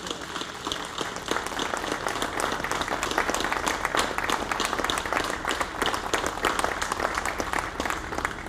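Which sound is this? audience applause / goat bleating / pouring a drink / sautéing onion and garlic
audience applause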